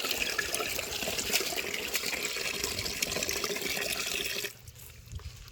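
Tap water runs and splashes while vegetables are washed in a basket, a steady close-up gush that stops abruptly near the end, leaving a few faint drips and clatters.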